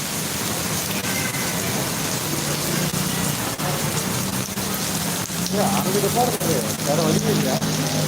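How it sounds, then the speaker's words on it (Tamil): Heavy rain pours steadily in Singapore in a dense hiss of drops, growing slightly louder toward the end, with no talking. "ஆர்ச்சி கேட்டில் பார்த்தீங்கன்னா நல்ல மழை பெஞ்சிட்டு இருக்கு"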